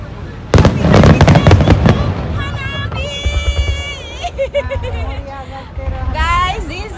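Fireworks bursting at the Kameoka fireworks festival in Kameoka, Japan: a dense run of loud, rapid crackling bangs opens, then scattered booms and whistling shells continue while excited voices talk and cheer nearby.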